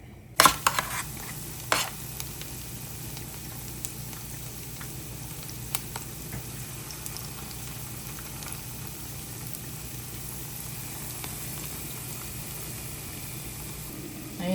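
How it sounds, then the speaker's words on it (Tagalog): Cooking oil heats in a pan for frying cassava okoy, giving a faint, steady sizzle and crackle with a few sharp clicks and utensil taps early on. "Magpapainit tayo ng mantika para sa ating okoy. Hayaan mo siyang uminit."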